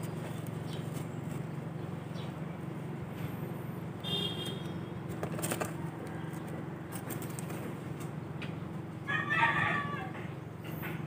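Fighting roosters, the first batch of gamecocks, cluck softly and let out a couple of short crows close by over a steady low background hum.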